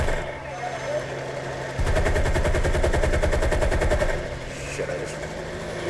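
Aircraft machine guns rattle in War Thunder WWII air combat, one steady burst of rapid fire lasting about two seconds, with an engine drone and other sounds before and after.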